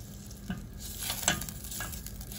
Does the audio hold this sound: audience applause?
no